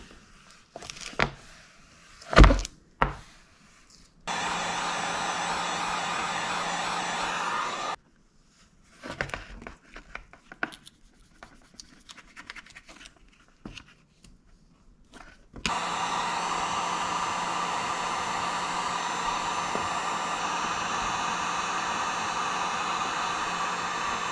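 A heat gun warms a curved graphics decal on a Honda CRF150R dirt bike. A steady blowing hiss starts and stops in several long bursts with short handling noises between, close and moderately loud.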